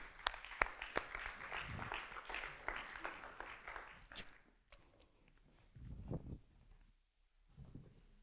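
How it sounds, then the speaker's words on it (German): A crowd at a German culture and digital civil society talk event gives applause for the next speaker, dense clapping for about four seconds before thinning to a few scattered claps and quieter low rumbles. "Einen dicken Applaus jetzt für Mick"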